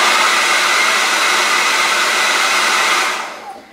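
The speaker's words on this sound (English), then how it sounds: "So maybe I'll dry it just a smidge." Hair dryer blowing loud and steady at close range over fresh spray paint, running for about three seconds before switching off and fading away.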